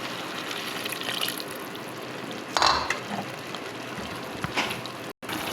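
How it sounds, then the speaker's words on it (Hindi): A little water is poured into a pan of chicken and bean curry, giving a sizzling, bubbling wash of sound with a brief louder splash partway through. The sound is close and continuous, with no talk. "थोड़ा सा पानी डालेंगे इसमें।"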